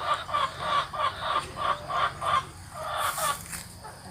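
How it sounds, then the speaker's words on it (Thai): Chickens clucking while eating feed, a steady series of short, rhythmic clucks close by, about two per second, with a louder squawk near the end and no talk. "ไก่ก็ยังกินอาหารอยู่นะครับ"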